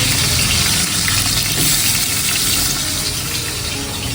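Onions go into hot oil in a pan, cooking for a broad bean and tomato curry, producing a loud, steady rushing sizzle that stays even and close without any talking.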